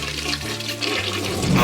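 A toilet flushes in a game-show style segment testing what will go down, a loud continuous rushing of water with gurgling swirl, building slightly toward the end, with no talk over it.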